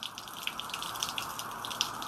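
Water gushes steadily out of a pipe in a continuous rushing stream, fairly close and unbroken, with small splashy bursts riding on the flow and no voices.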